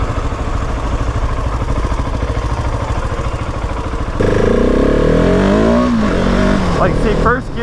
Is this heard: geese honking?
no